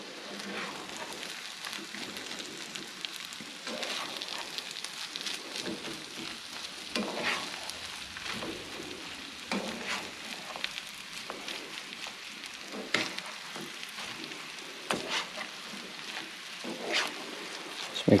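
An egg fries in a hot pan with a moderate, crackling sizzle that holds steady throughout, with occasional pops and small knocks from a utensil.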